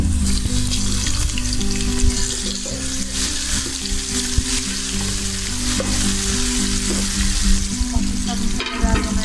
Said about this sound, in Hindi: अब हम इसमें अदरक लहसुन पेस्ट डाल लेंगे।